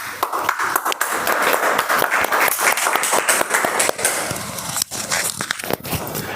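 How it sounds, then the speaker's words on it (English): An online meeting audience clapping, uneven and crackly with scattered distinct hand claps and bursts of noise, moderately loud and continuous with no speech. "Please don't stop clapping."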